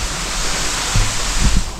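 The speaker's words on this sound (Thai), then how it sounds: "ผมให้ดูน้ำตก" Steady broadband rush of a mountain waterfall, falling water close and continuous, with a few soft low thumps near the end.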